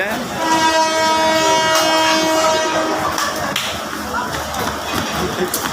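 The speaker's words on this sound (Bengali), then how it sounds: "এই করতা এক্সপ্রেস ট্রেনটি এখন চলে যাবে" An express train's horn blares for a few seconds at a station platform, then the heavy rumble and clatter of the train departing takes over, loud and close.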